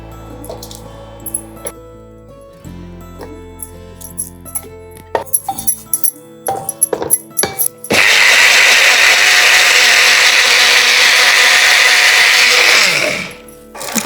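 A mixer grinder blitzing cooked arai keerai (amaranth greens), preceded by clinks and taps of handling the jar, then a loud steady whirring roar for about five seconds before it stops.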